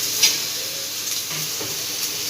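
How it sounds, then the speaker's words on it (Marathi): Tomato, onion, garlic and ginger fry in a pan for chana masala, giving a continuous, fairly loud sizzling hiss with faint stirring scrapes. "आता आपण यामध्ये घालूया टोमॅटो. टोमॅटो पण आपल्याला चांगला भाजून घ्यायचा."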